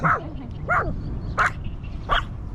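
Dog out on a walk barking four times, sharp separate barks spaced roughly evenly over a couple of seconds, close and moderately loud over low street background.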